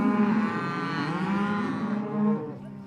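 Cattle moo loudly and continuously during branding by cowboys with hot irons, a drawn-out bellowing close by over a busy background of ranch noise.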